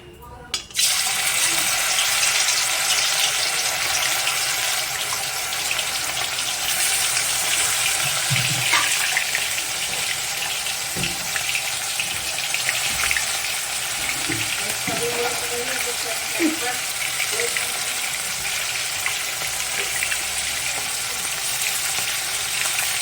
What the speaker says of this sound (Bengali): তেল গরম হয়ে গেছে, এবার আমি মাছগুলো আস্তে আস্তে ভাজা বসাবো